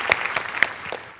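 Audience applause following a comedy skit on a Marathi comedy stage show, a short burst of clapping with a few sharper claps standing out, moderately loud and alone.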